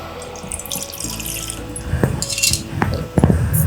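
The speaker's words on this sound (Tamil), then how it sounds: "ஒரு பாத்திரத்தில் கொஞ்சம் நீர் விட்டுட்டு" Water from a tap runs steadily into a metal cooking pot, a continuous close splashing rush with a few clinks of the vessel near the end.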